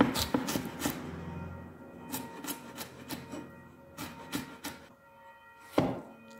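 Ginger is cut into small pieces with a knife on a board, producing a busy run of quick, irregular taps and chops, close by, with short pauses and a louder chop near the end.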